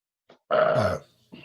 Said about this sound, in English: That was a Jameson burp.